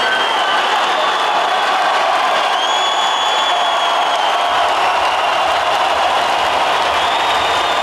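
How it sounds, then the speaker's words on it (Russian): Boxing arena crowd at a world title fight's end, a sustained dense roar of cheering and applause filling the hall, loud and continuous with scattered whistles and whoops throughout. "Красивый бокс завершился под нестихаемый рев трибун"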